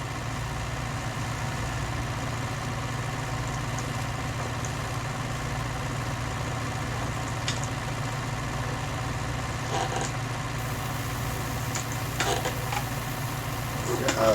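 A tractor engine idles and runs steadily through a 1966 sugar beet harvest in the field, a constant low drone with a few faint knocks and clatters near the end.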